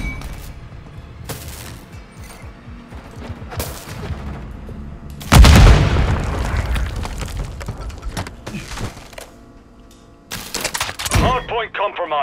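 A grenade blast in a shooter video game, a sudden loud boom near the middle that follows ongoing gunfire and is followed by more shots and sharp bursts toward the end, with game voice callouts around it.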